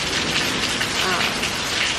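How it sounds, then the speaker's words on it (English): Steady rain falling on a surface, a dense, even hiss of drops that keeps a constant level throughout. "And it just started raining"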